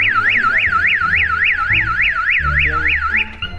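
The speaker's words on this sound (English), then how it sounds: "that's how you know his alarm work" A loud car alarm on a Honda Civic wails in a rapid rising-and-falling warble close by, repeating steadily before cutting out near the end.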